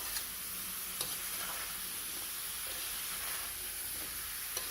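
Chili, onion and turmeric sizzle steadily in hot oil, with occasional scraping ticks of a spoon stirring the pan, close and continuous without talk.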